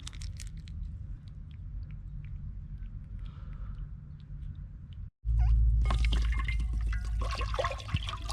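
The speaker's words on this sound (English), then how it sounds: "just got a little bit of water in the pan" Water poured into a cooking pan at an outdoor coastal cook-up, a sudden loud splashing rush starting partway through after a quieter stretch of background noise.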